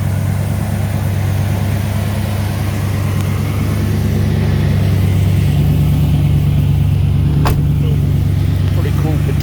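An OBS Ford pickup truck with a cowl induction steel hood runs steadily outdoors, a low, constant engine drone that grows slightly louder midway, while someone talks over it.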